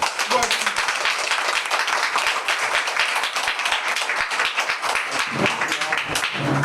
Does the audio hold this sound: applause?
yes